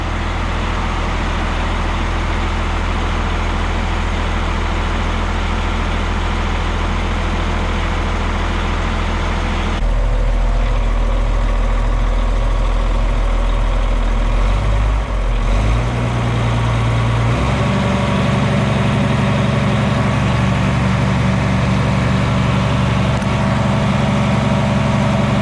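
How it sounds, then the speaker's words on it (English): A rebuilt White 2-155 tractor diesel engine runs loud and close, a steady low idle that shifts in pitch and load partway through, with no talking. "sounds like the same old tractor to me"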